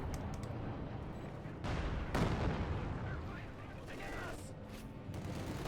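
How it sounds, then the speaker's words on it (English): Anti-tank rifle fire in Company of Heroes 2, Guards squad shooting at a T-35 tank's side armor, heard as sharp cracks and booms through dense battle noise, beneath a commentator's continuous talk. "Guards now firing into the rear side arm of the target tank."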